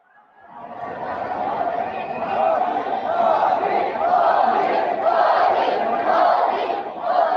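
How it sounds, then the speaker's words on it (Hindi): A large crowd roars and cheers steadily at a public rally where Prime Minister Narendra Modi is welcomed to speak, a dense, loud wash of many voices that swells after a quiet start and holds throughout. "माननीय प्रधानमंत्री श्री नरेंद्र मोदी जी को तालियों की गूंज और हर्ष ध्वनि के साथ उनके विशेष संबोधन के लिए आमंत्रित करते हैं।"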